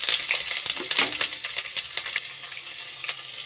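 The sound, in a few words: medium-size onion frying in pan with mustard seeds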